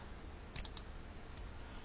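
A few faint, quick computer mouse clicks, two or three close together and one more shortly after, soft and near against a quiet background.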